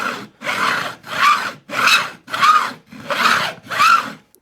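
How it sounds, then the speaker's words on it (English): Guitar fret ends being filed with an angled bevel file, seven steady rasping strokes in an even back-and-forth rhythm, close and clear with no talking. "It's their little angled bevel file."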